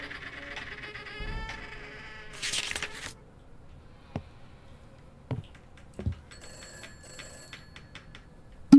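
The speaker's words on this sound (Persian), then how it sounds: "تلفن زنگ می‌خوره." A telephone rings in the horror video game Summer of 58, bursts of trilling bell tones in the opening seconds among ambient game sounds, followed by scattered thumps and sharp clicks.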